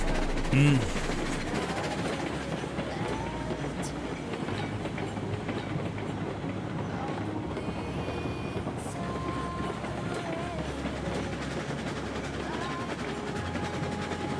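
A model locomotive runs along rails with a steady, continuous rumble and soft clickety-clack that stays even and fairly loud throughout, with a brief chirp near the start.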